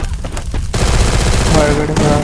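Rapid bursts of shotgun fire in Free Fire crash repeatedly, loud and close, with a dense ringing blast texture continuing after a brief quieter start.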